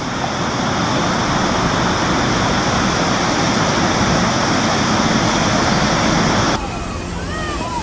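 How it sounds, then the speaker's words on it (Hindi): Floodwater of the Bijuna river pouring over a bridge during heavy rain, a loud, dense, unbroken roar of rushing water close by, with the rush dropping off slightly toward the end. "बिजुना नदी के पुल के ऊपर से पानी बह रहा है"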